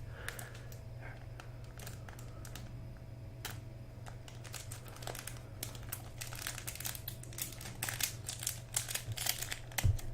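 A sticker is pulled out of a package with close, crisp crinkling and rustling, made of many quick irregular crackles that grow louder and busier toward the end, with no talking.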